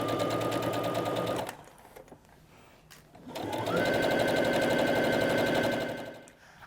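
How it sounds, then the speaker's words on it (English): A sewing machine stitches a pocket onto a fabric grocery tote, running in two loud steady bursts with a brief pause between them. "I'm just going to go ahead and remove pins as I'm going and stitch that down."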